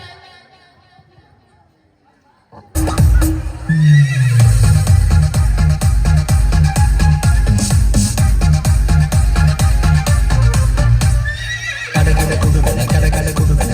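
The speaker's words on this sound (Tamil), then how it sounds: "குதிரை வந்துச்சு அதுல கோபமாக வராரு பவுலு மாமா." A horse whinnies and neighs over a loud, busy mix of music and crowd noise at a church holiday Bible school stage show, sustained and dense throughout after a quiet opening.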